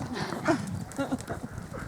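Horses walk with a steady clip-clop of hooves during a riding lesson at Kinaldy near St Andrews, Fife, the hoofbeats close and moderately loud, with a voice speaking over them.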